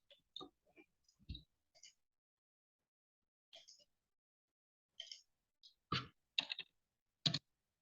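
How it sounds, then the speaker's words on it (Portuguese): A computer mouse clicks while drawing in AutoCAD, giving a few sparse, sharp clicks in a quiet room, with soft speech between them. "Clico no ponto, clico no outro."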